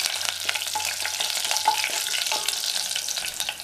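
Chana dal and dried red chillies fry in hot oil for wheat rava upma, a soft, even sizzle with small crackles and light stirring scrapes, heard close and without voices.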